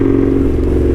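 Indian Scout Street Hooligan motorcycle built by Krazy Horse, its loud exhaust droning in a deep steady rumble at close range for a brief moment.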